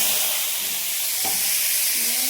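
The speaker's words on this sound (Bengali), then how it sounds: "একটু জিরে ফোড়ন দিলাম, দুটো কাঁচা লঙ্কা ফোড়ন দিলাম, আর এই আলুটা দিয়ে দিলাম" Potatoes fry in a pan with cumin seeds and two green chillies as tempering, making a loud, steady, close sizzle that runs throughout without a break.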